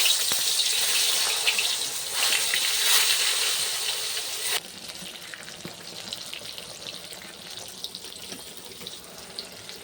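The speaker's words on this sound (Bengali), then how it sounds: "এরপর আমি বেগুনটা ভেজে নিব" Steady sizzling of eggplant frying in hot oil, loud at first and then settling into a quieter, continuous crackle.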